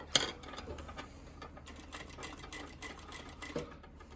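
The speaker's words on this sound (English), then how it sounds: "now we stitch relatively near to this fold edge we see" A sewing machine stitches along the folded hem of jeans, a soft rapid mechanical chatter running steadily at low volume, with a few brighter clicks near the start and end.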